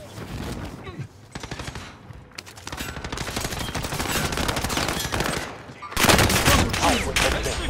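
Rapid bursts of gunfire in Call of Duty: Modern Warfare crackle in loud, dense volleys with brief pauses between them, surging even louder near the end.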